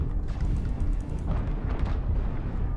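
Rocket launcher fire in MechWarrior Online, heard as a dense rumbling barrage of muffled blasts and booms under constant low mechanical game noise, with no clear separate shots.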